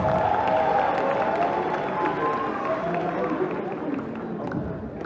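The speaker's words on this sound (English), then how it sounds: "Guys, a round of applause." Crowd at a regional student innovation challenge applauding and cheering amid chatter and voices, a busy, fairly loud wash of clapping and noise that gradually fades over several seconds.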